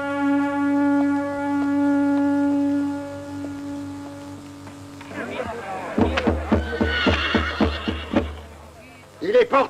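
A horse whinnies loudly in a shaky, pulsing call, with hoofbeats clopping around it after a calm, tonal opening; a voice is also present.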